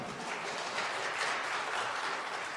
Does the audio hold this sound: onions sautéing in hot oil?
no